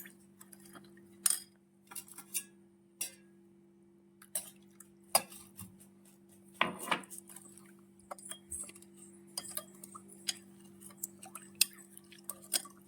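Tang powder and water are mixed in a bowl: a spoon stirs and knocks against the sides, making intermittent light clinks and small wet splashes, fairly quiet and close, over a faint steady hum.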